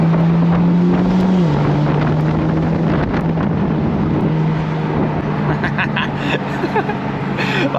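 A tuned BMW F80 M3 drones steadily under load from inside the car, its exhaust adding faint crackling burbles toward the end over constant road and wind noise.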